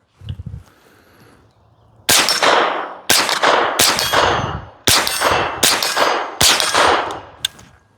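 Seven sharp gunshots from a CMMG AR .22 LR pistol, fired in an irregular string about one every half to one second, loud and close with a short ringing tail after each, following a brief low thump.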